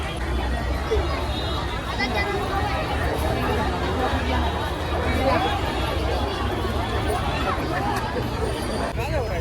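A dense crowd of visitors at Katraj zoo in Pune fills the air with continuous babble and chatter, an unbroken wall of many overlapping voices from near and far.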